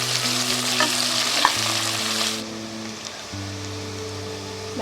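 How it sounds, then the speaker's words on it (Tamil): Onions sauté in hot oil for mutton biryani, with a dense, continuous sizzle and occasional stirring taps close by, over steady background tones; the sizzle drops a little in loudness partway through. "நல்லா இந்த அளவுக்கு வெங்காயத்தை வதக்கிங்க"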